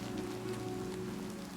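Rain falls steadily in the video game Oblivion Remastered, a dense, even patter on surfaces with a low hum beneath, continuous and unbroken with no voices.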